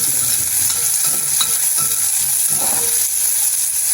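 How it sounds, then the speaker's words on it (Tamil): Onions fry in a pan for an urad dal curry, a loud, continuous close sizzle broken by scattered clicks and scrapes of stirring, with no talking. "ஓகே வெங்காயம் வந்துட்டு நல்லபடியாக பொரியுது."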